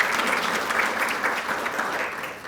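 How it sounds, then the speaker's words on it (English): Sustained applause from a seated crowd at an employee recognition luncheon, thanking the caterer after a meal, steady dense clapping at moderate loudness throughout without any speech. "let's give the caterer a round of applause for that wonderful meal"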